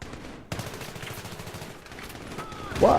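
Heavy automatic gunfire rattles in dense, overlapping bursts during a Battlefield 3 firefight, loud and continuous with a sharp swell near the end.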